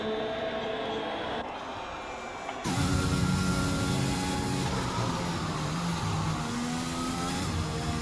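A Formula One car engine roars continuously through a hot lap in a racing game at the Spanish Grand Prix, getting louder and fuller partway through and then holding a steady, sustained drone.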